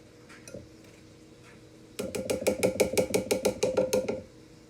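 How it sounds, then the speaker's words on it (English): Lentil mixture tipped and scraped into a bowl, a quick run of about a dozen sharp, evenly spaced clinks and taps of utensil against the bowl after a quieter start. "So, we're going to add this mixture into our bowl."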